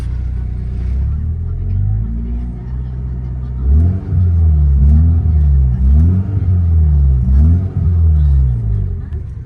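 A BMW E36 318i with the M43 four-cylinder engine revs repeatedly with quick, responsive throttle blips, rising and falling in a steady rhythm, loud and close.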